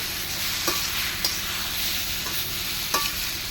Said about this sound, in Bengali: এবার নাড়তে হবে।